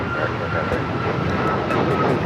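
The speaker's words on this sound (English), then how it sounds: "here we have United Airlines 1621 taking off to Orlando, Florida on the MAX 9" A United Airlines Boeing 737 MAX 9 departs LAX, heard as a brief, steady jet engine rumble at moderate distance under a light murmur of voices.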